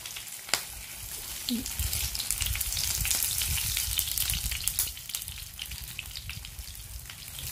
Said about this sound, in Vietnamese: Mình chiên đậu hũ ra thì mình gấp ra rồi mình chắc bớt dầu ra các bạn